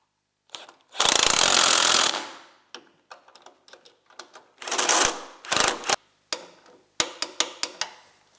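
Bolts on a Polaris IQR 800 mountain snowmobile chain case being tightened with a power impact tool, several loud buzzing bursts up close followed by a run of short rapid ratchety rattles.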